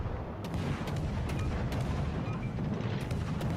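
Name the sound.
warship guns firing in video game World of Warships: Legends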